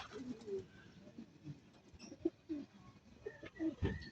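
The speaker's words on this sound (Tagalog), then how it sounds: "pumasok na mga kaibon" Racing pigeons coo inside a loft in soft, repeated low murmurs and short bursts from several birds, fairly close but quiet, with faint chirps and background rustling and no speech.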